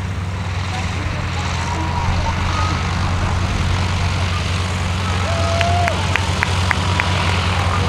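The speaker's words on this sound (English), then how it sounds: "Airplanes to the air for a" A steady low engine drone hums throughout as a propeller biplane with a wing walker flies overhead at an airshow, with a faint crowd murmur and distant voices beneath.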